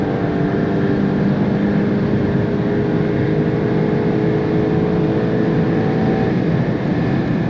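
A VW Golf GTI Mk8 with tuning switched off, accelerating hard on the Autobahn, heard from inside as a loud, steady engine drone and road roar that holds for the whole stretch, with no talk.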